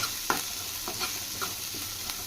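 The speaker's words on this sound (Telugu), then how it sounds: "ఆనియన్ కొంచెం ఫ్రై చేసుకోవాలా." Onions frying with curry leaves in a pan, a steady soft sizzle with a few light scrapes of stirring spaced about every half second.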